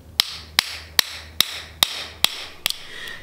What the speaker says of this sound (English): I'm gonna just use this small ball peen and I'm gonna tap this all the way out